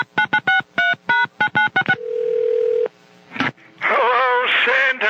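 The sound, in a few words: telephone dialing to call Santa Claus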